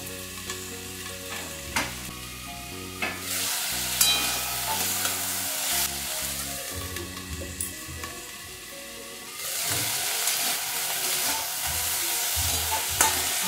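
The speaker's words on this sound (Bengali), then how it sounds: "ঢাকা খুলে নেড়ে নেড়ে আমি সবজিগুলোকে ভেজে নিচ্ছি।" Potato and cauliflower pieces fry in a pan while a spoon stirs them, giving a steady sizzle with scraping clinks, then louder, brighter frying once the lid comes off near the end.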